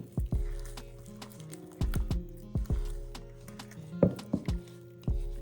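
Puff puff batter being mixed with lukewarm water, a series of soft wet squelches and thuds in an irregular rhythm, close and fairly quiet, no voices.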